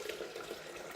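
Boiled kettle water pours steadily into a Thermomix bowl, a continuous close, moderately loud watery stream with no talking.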